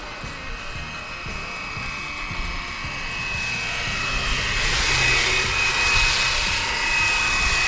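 A Flywing BO 105 RC helicopter with GPS speeds forward in sport mode, its whining rotor and motor steady at first, then swelling louder and brighter as it gains altitude and passes closer, with no talking.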